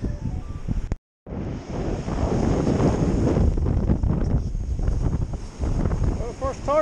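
Cold wind gusts hard and steadily across the microphone outdoors, a loud continuous roar with a brief drop near the start.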